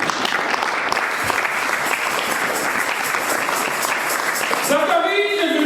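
A church congregation applauds after a scripture reading: sustained, loud clapping from many people filling the room, with a voice rising over it near the end.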